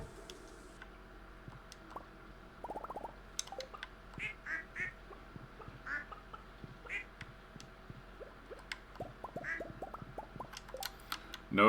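Duck quacks from the video game Stardew Valley, a series of short repeated calls spaced through the clip over a soft rainy ambience, with a few light ticking game sounds and no talking.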